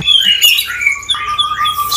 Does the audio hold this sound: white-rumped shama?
yes